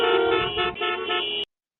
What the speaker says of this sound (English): Honk your horn for me.